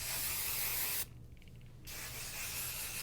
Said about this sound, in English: I'm gonna take the IGK Good Behavior Smoothing Spray